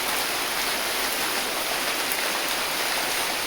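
Steady rain falling, a dense even hiss of water with no breaks, moderately loud and close, no voices.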